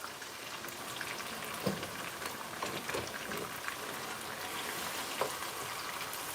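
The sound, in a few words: sauteing ginger, garlic and habanero pepper in pan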